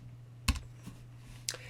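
A few sharp, isolated key clicks from a computer keyboard while code for a microcontroller program is typed in, close and crisp against a quiet room hum.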